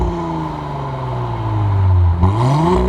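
A B9 Audi S4 with downpipe, intake and sport cat, in comfort mode, idles with a steady deep exhaust drone that swells slightly as revs rise, then dips and climbs again near the end, heard close and alone.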